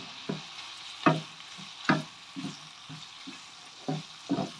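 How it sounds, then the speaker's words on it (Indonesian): Bay leaves, lime leaves and spices sauté for beef rawon, a faint low sizzle under a handful of soft, spaced stirring scrapes and clinks, with no talking. "ini semua kita akan tumis ya, biar rasa. Kita tumis dulu hingga bau wangi ya."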